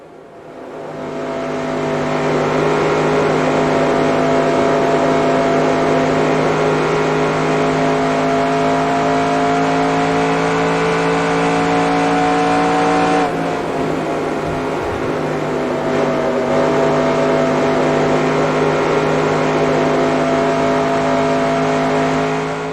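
Race car from NASCAR Racing 2002 lapping Texas Motor Speedway, its engine a steady loud drone with a sustained harmonic whine, briefly dipping and shifting pitch midway before holding again; no talk.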